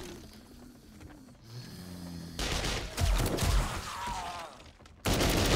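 Gunfire in the zombie survival game 7 Days to Die: a faint, low rumble at first, then a louder burst of rapid shots and clatter that swells in the middle and returns strongly at the end, with no talking.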